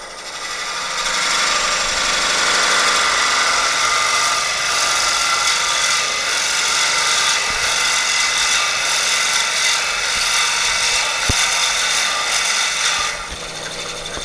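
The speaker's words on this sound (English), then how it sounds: "this is a 2 1/8 inch carbide tipped Forstner bit. So I'm going to drill into about there" A power drill drives a 2 1/8 inch carbide-tipped Forstner bit into wood for over ten seconds, a loud continuous rasping whine that holds even throughout before winding down at the end.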